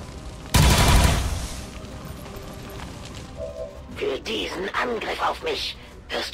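A claymore detonates in the video game XCOM 2 with a single loud, close blast that rumbles and fades over a couple of seconds, followed by scattered gunfire bursts while someone speaks.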